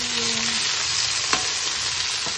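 Carrots and beans stir-frying for chopsuey, a loud, dense, continuous sizzle close up, with a sharp clack of a utensil against the pan partway through.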